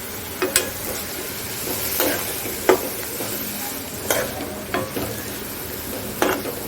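Vegetables for crispy railway-style veg cutlets are stirred in a frying pan, with a steady low sizzle and several distinct scraping strokes spaced about a second apart, close and moderately loud, without talk.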